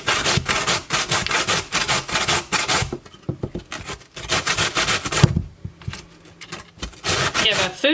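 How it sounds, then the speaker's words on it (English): Potatoes are grated by hand, washed and peeled first: brisk, rhythmic rasping strokes, loud and close, in quick bursts with a short pause in the middle and brief talk in places. "Now you're gonna grate them."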